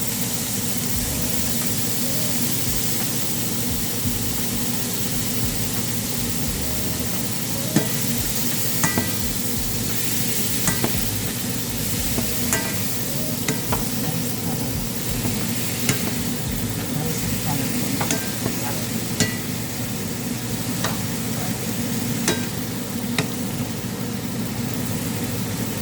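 Cabbage and soya chunks are stir-fried for chow mein, giving a continuous loud sizzle with scattered scraping clicks from stirring throughout.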